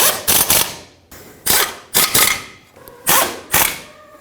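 A ratchet wrench tightens bolts on the 2.4L engine of a 1997-2006 Jeep Wrangler during a timing belt and water pump job, giving about seven short bursts of rapid, close metallic clicking separated by brief pauses.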